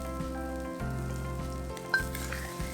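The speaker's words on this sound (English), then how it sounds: "and fry it for another 2 minutes" A pork chop fries in a pan, giving a loud continuous sizzle with a few stirring scrapes and small pops, close up and without speech.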